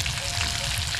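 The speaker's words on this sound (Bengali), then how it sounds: "চিকেন ফ্রাই হচ্ছে আমাদের" Chicken frying in a pan at a New Year car camping gathering, a steady dense sizzle with crackling pops, close and loud, continuous throughout.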